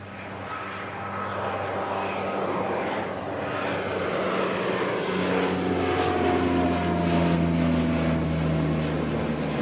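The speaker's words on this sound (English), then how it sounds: "It was a really shallow takeoff actually." An airplane taking off at an airport at sunrise, a loud sustained engine roar with shifting tonal whine that builds and holds, with no talk over it.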